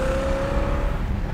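A 1966 Pontiac GTO with a four-speed gearbox drives along, its exhaust giving a loud, steady, close rumble with a sustained engine tone and no voices.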